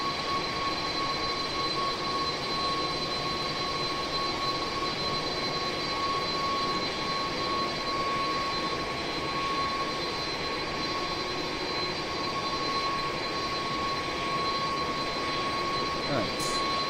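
A McDonnell Douglas DC-10's jet engines drone steadily as they settle down before taxi, a continuous broadband roar with faint steady whining tones that holds at an even level throughout.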